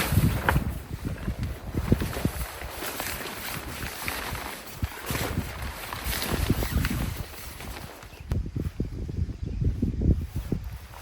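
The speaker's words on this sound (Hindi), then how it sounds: "अभी सिर्फ हवा तेज तेज चल रही है" Strong windstorm gusts buffet a campsite, producing a steady, loud roar of broadband wind rumble that swells and dips throughout with no voices.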